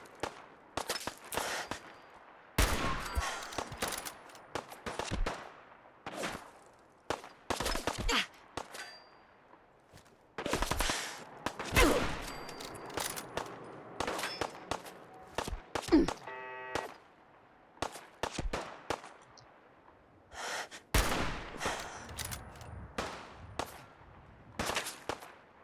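Gunfire in the video game Fallout 4: repeated sharp shots and metallic clangs in irregular bursts, some rapid, spread over a steady game backdrop.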